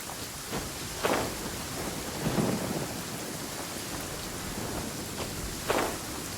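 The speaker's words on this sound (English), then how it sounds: "Taking a stroll in the middle of a downpour certainly rouses the spirit." Steady heavy rain pours down in a Genshin Impact downpour, with low rolls of thunder swelling faintly a few times beneath the constant hiss, no voices present.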